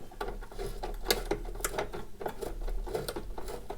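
Bolts being worked out of the front heater unit of a Rover P5B, heard as a steady run of small close metallic clicks and ratcheting ticks with faint scraping, no talk.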